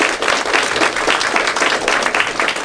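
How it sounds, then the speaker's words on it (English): Audience applause fills a hall at a ministry gathering, a dense steady wash of many hands clapping at once, loud and sustained throughout with no break. "Give them a big hand."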